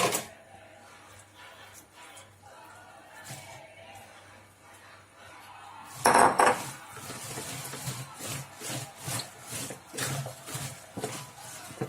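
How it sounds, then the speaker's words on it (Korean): Wet rubbing and squishing as kimchi seasoning is mixed into napa cabbage in a rhythmic series of strokes, quiet at first and then louder and busier, with light knocks against a container. "잘 버무려 줍니다."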